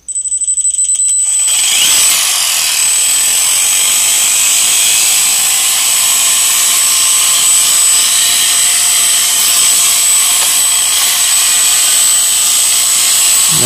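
An antweight combat robot's drive motor, built for Bot Blast 2014, runs at throttle with a loud, steady, high-pitched whine. It starts abruptly after a brief quiet moment and holds constant for about twelve seconds, with no talking.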